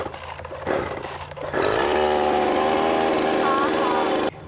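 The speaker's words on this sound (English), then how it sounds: "my dad started explaining to me how to run the chainsaw and actually cut down the tree" A loud engine roars up and runs steadily close by, a harsh buzzing drone that stops abruptly near the end.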